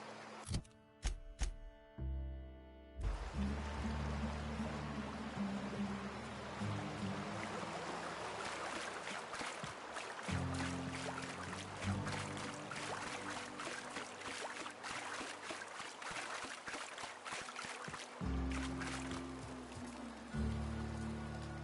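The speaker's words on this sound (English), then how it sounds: "the waterfall's a good spot to wash your clothes." Waterfall in the video game The Outer Worlds, a steady rushing wash of flowing water that runs continuously under layered game music and tones after a brief opening of isolated notes.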